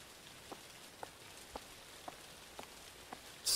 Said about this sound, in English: I hear rain outside.